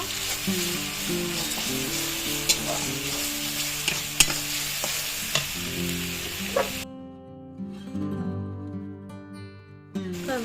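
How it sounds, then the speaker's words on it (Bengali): Ginger garlic paste fries in a pan and is stirred, making a loud, continuous sizzle with occasional scraping taps and a tonal background drone. "এরপর দিয়ে দিলাম আদা রসুন একসঙ্গে বাটা তারপর একটু নেড়ে চিড়ে দিব"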